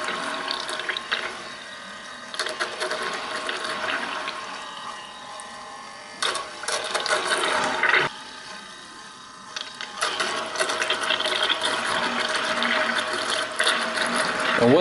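Brushed RC car motor being broken in while submerged in water, a continuous whirring mechanical drone with gurgling water that shifts in speed and pitch as the throttle changes, no voices.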